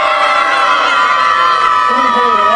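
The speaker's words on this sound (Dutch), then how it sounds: "En ik wil een donderend applaus." Crowd cheering and whooping at a sports park prize ceremony for a youth football team, a loud continuous wash of voices filling the whole stretch without pause.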